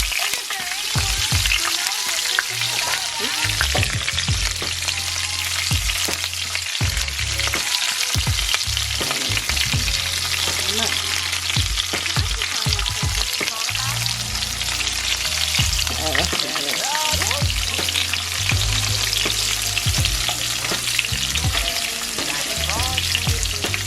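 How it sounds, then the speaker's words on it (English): Peppers and onions fry in a hot pan with a loud, steady sizzle and crackle that runs throughout, along with occasional soft stirring knocks and no talk. "So I got my peppers cooking."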